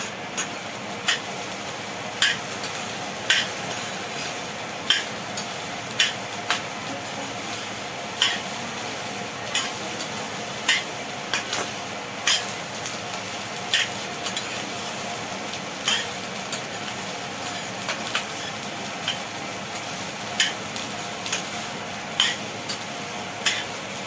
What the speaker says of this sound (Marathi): आपला राईस झाला तर आपण कोथिंबीर टाकून घेऊ. आता मिक्स करून घेऊ.